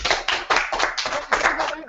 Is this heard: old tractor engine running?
no